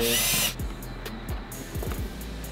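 A power drill spins out screws from the turbo inlet on an Audi S3 during a stage 1 install, one loud whine at first followed by several short, quieter bursts close by in a garage.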